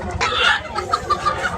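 Rooster and hens cluck in short, scratchy bursts amid the general hubbub of a busy poultry market in Tangail, Bangladesh, close by and fairly loud.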